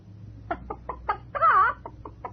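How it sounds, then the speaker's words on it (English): A chicken on the stage of a 1959 television quiz show gives a run of short, sharp clucks, then one longer squawk, loud and close, with no talking. "What's that chicken doing here?"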